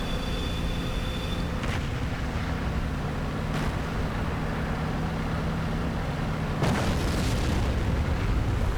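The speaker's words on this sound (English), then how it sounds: "And there goes another shot, right past the cupola and into the rock." A tank cannon round in a tank video game slams into rock with a loud, broad boom near the end, over a steady rumbling game soundscape with faint earlier thuds.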